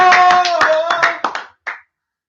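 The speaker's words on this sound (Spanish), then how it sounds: "¡Vamos, todos aplaudan!" A single person claps her hands several times during a Spanish-language livestream, loud and close, over a sustained tonal sound before the claps fade out.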